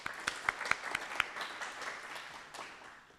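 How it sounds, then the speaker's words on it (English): Audience applause at a storytelling event, a quieter round of clapping with several distinct sharp claps near the start, thinning and fading out toward the end. "So, round of applause."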